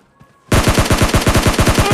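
Automatic gun firing in PUBG Mobile Lite, starting abruptly after a brief quiet moment and continuing as a loud, rapid, evenly spaced stream of shots.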